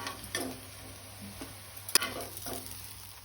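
Goan mackerel liver cutlets fry quietly in a pan, a faint sizzle running underneath a few soft clicks of a utensil and one sharper tap near the middle.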